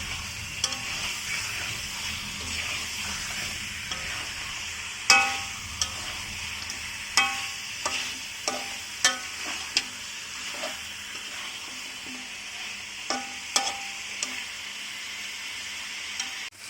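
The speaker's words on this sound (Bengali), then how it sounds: "এভাবে নেড়ে চেড়ে মুরগিটাকে ভালোভাবে কষিয়ে নেব" Desi chicken stir-fried with spices in a pan sizzles steadily throughout, with repeated sharp scrapes and clacks of a spoon stirring against the pan at irregular intervals.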